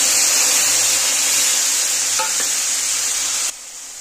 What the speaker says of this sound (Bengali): তেলটা গরম হয়ে গেছে, এবার আমি দেবো জিরে আর তেজপাতা